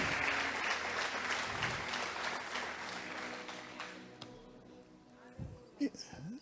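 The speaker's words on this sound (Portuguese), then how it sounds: "Aplaude direito, aplaude." Applause from a congregation during a church service, fairly dense at first and thinning out, fading to quiet with a few scattered sounds and some speech near the end.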